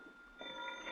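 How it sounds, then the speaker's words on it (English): A telephone rings in a hotel room as a radio drama sound effect, a single short ring rising out of quiet background hiss, faint and close. "the phone was ringing in my hotel room when I got there"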